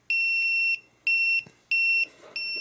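A rechargeable LED countdown timer's alarm beeps in loud, close, high electronic bursts, four steady tones in a row with short gaps between them.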